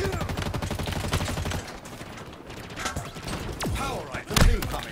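A slow-firing gun in Halo Infinite booms in a rapid string of heavy reports, followed by a few separate thumping shots and a loud blast near the end, with a voice speaking between them.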